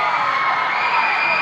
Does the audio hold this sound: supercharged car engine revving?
no